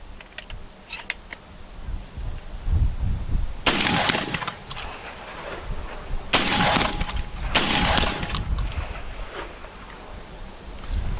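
A Retay Gordion semi-automatic 12 gauge shotgun with a 3-inch chamber fires at an outdoor range, with three loud, sharp blasts spaced a few seconds apart over a low background rumble, and no talking.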